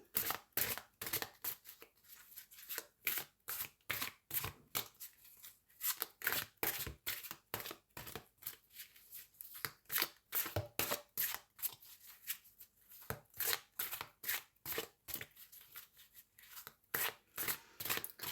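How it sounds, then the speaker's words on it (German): A deck of tarot cards is shuffled over and over, giving close, rapid riffling bursts in a steady repeating rhythm with no talking. "Einmal gut die Karten mischen."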